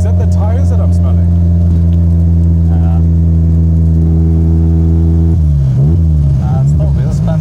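A tuned VW Golf Mk1 Turbo with a six-speed gearbox revs hard and loud and up close, its engine note holding steady and then dropping sharply near the end, with tire scrabble mixed in.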